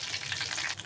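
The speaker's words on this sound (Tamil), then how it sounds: "இப்போ எண்ணெய் சேர்த்துட்டு இதில் வந்து இந்த மாதிரி ஒன்று ஒன்றா போட்டுக்கலாம்." Eggs sizzling in hot oil in a pan, a short burst of dense crackling fry at close range with no one speaking.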